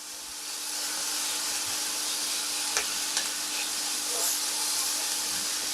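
Onions and vegetables sizzle and hiss in a frying pan while being stirred, a steady close frying noise with a few brief scraping clicks.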